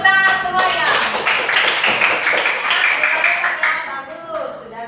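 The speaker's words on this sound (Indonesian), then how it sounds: "tepuk tangan semuanya" Students in a classroom clap their hands together in a brisk, close burst of applause that holds steady for about four seconds and then thins out, with some voices mixed in.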